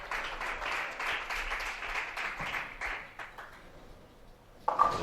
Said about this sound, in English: A round of applause there for Daphne Tan.